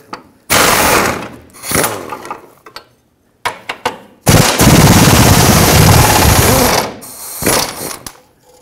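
An impact tool breaks loose 19 mm subframe bolts on a 2003-2008 Toyota Corolla, giving loud rattling hammering bursts separated by short gaps, with one long sustained run in the middle.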